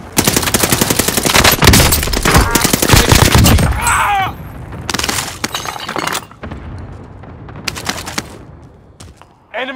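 Video game gunfire on the Fortune's Keep map, rapid automatic bursts crackling in dense runs with brief pauses, loud and close, mixed with glass shattering and occasional game voice lines.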